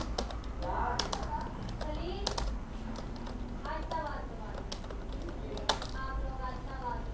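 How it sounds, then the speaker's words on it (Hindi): Computer keyboard typing during an Urdu InPage software lesson, a run of quick key clicks with several sharper taps, heard beneath steady talk by a man. "यहाँ पर फ़र्ज़ करें मैं टाइप करता हूँ"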